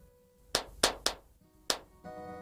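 Four sharp, close hand claps in a quick irregular burst, separated by short gaps, with faint background sound in between; part of a scene in a Hindi horror film.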